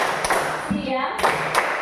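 Rhythmic clapping from a class of pupils during a classroom clap chant for a Quran lesson on surah Adh-Dhuha, with a few sharp claps in a quick pattern alongside a chanting voice.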